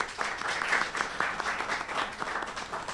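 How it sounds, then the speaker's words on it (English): An audience at a TV show launch claps for the production team, a modest, fairly distant round of applause that stays soft and steady for a few seconds. "let's clap for the production team again"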